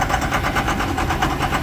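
Farm engine left idling with a knocking fault, a steady, loud, close rumble with a fast even pulsing throb throughout, no voices.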